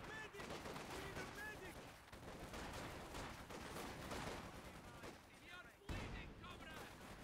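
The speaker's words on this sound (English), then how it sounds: "Another Ziskan barrage going to come down here." ZiS-3 artillery barrage in Company of Heroes, a dense run of rapid booming impacts and gunfire crackle lasting several seconds, fairly faint overall, with a sharp heavy blast near the end.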